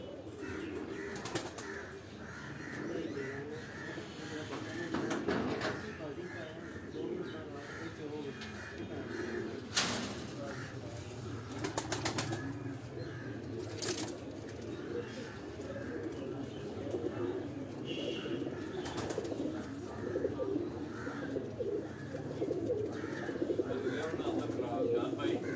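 Pigeons coo repeatedly among flapping wings and chirps at a Rawalpindi pigeon-keeping gathering, with people talking over much of it and a few sharp knocks standing out.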